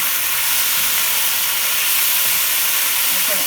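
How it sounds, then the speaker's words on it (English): Beef sears in a very hot pan, giving a loud, steady broadband sizzle that fills the whole stretch close up, with no talking over it. "I think everything is seared up enough"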